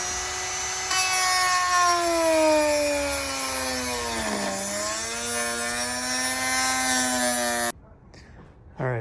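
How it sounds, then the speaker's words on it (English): A small Dremel rotary tool cutting corners off a carbon fiber fender, a steady high-pitched whine with a strong tone that dips in pitch as the cut loads it, then recovers before cutting off abruptly near the end. "So little Dremel right here"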